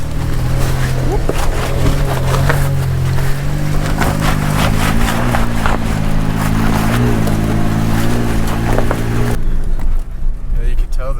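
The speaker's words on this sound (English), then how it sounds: "you can tell the trucks, the engine's having to work a lot harder" A stock Toyota Tacoma truck engine labors up the snowy Imogene Pass off-road trail in Colorado: a loud, steady low drone with wind buffeting the microphone, easing off abruptly near the end.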